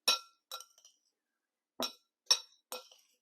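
A spoon clinks against a glass bowl while ingredients are stirred, giving five short, bright, close taps in two small bursts with silence between them.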